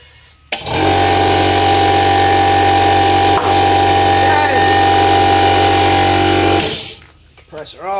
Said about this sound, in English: Compressor off because it's too noisy